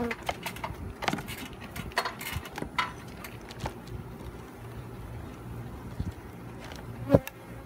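Bees swarm and buzz steadily throughout a hive removal, a dense close drone with brief louder bursts as insects pass near, and a sharp knock or tap near the end.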